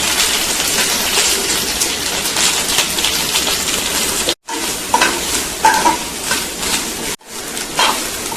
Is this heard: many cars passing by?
no